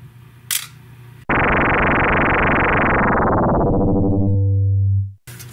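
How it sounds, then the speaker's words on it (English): A Pentax Spotmatic SP II camera shutter fires up close and loud: a sudden burst, then a sustained whirring tone that fades over about four seconds and stops abruptly, alone with no talk. "Today I've got a Pentax Spotmatic SP2 that I need to check the shutter speed."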